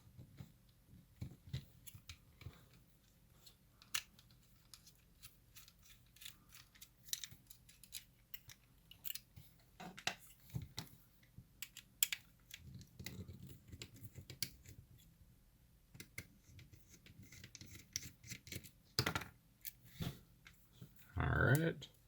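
Screws being unscrewed from Skyzone SKY03O FPV goggles during disassembly, faint scattered ticks and small scraping clicks from a handheld screwdriver, close up and quiet, with soft talking in places.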